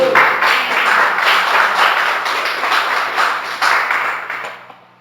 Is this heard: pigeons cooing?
no